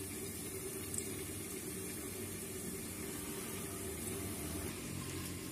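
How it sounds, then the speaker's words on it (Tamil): A pot of dal with cinnamon and cloves simmers on the stove, a faint, steady bubbling hiss with a continuous low rumble and no speech. "நல்லா கொதிச்சுட்டு இருக்கு"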